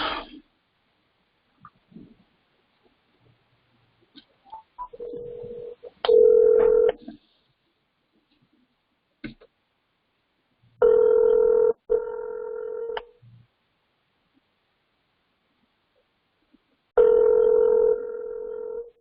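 A telephone call being placed: a few faint clicks and keypad taps, then steady dial or ringback tones in three separate bursts of about two seconds each, separated by long silences, with no talk.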